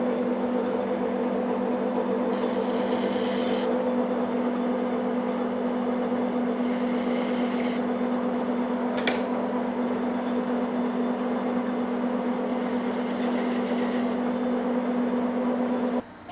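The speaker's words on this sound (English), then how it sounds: "I'll just put a couple chamfers on there quick" A machine tool cutting chamfers on a steel sawmill yoke part, with a constant motor hum and three separate bursts of high metallic cutting hiss plus one short sharp scrape, nearby and without talk.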